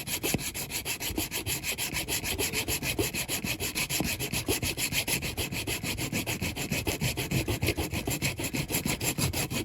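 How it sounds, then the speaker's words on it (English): Steady, rapid back-and-forth sawing through a Corgi die-cast Mercedes ambulance model, close and continuous, a rasping rhythm with no talking. "or just carry on sawing like I'm doing here."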